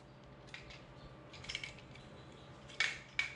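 Snips cutting on a Bird electric scooter, a few faint, sharp metallic clicks spread over a few seconds against quiet background hiss, the last two snips crisper and louder.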